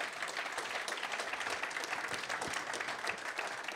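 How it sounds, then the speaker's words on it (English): An audience at the Petersen Automotive Museum applauds steadily, many hands clapping together in a dense, continuous patter at moderate distance. "Big round of applause for Rhys Millen."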